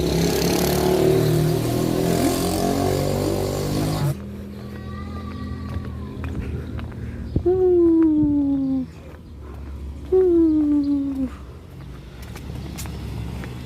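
A car pulling away and driving, heard from inside: a loud broadband rush at first, then the engine revving up in rising sweeps as it accelerates through gears, fairly close and steady.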